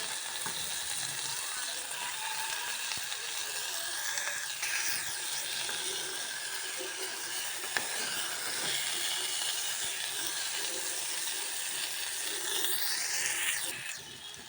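A washed rice and lentil mixture for baby khichdi fries in a pan, giving a constant even sizzle with faint stirring scrapes throughout and no voices.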